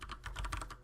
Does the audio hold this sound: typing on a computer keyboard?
yes